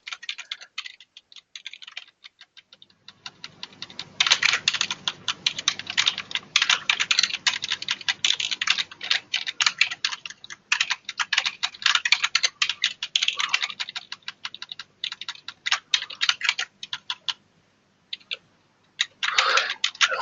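Rapid typing on a computer keyboard, dense irregular key clicks running almost continuously for about fifteen seconds after a quiet start, with short pauses between bursts, close and fairly loud with no talking.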